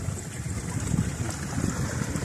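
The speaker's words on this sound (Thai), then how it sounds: "เสียงน้ำไหล" Rushing water of a waterfall churns and gurgles steadily, a rough continuous flow with low burbling pulses and some wind noise; nobody speaks.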